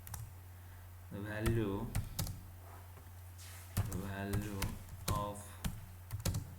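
Keyboard keys clicking in quick bursts while code is typed on a computer, close and moderately loud, with someone talking over much of it and a steady low hum underneath.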